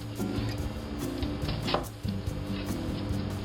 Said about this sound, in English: I make a downward cut and I slide the knife back on the board, not lifting it